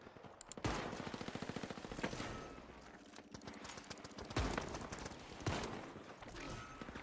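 Gunfire rattles in the video game The Finals: sustained automatic bursts with sharp louder shots near 0.6, 4.4 and 5.5 seconds, moderately close but recorded at a low level, with no voices.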